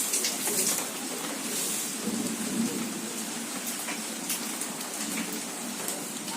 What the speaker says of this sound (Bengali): এখন ঝিরিঝিরি বৃষ্টি পড়ছে।